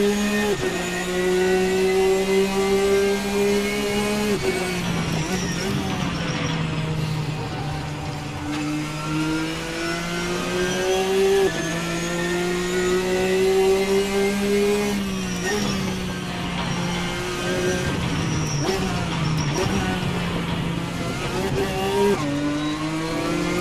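An RSS GTN race car engine in a racing sim game drones steadily, its pitch climbing through each gear and dropping at shifts, loud and close throughout with faint tyre scrub.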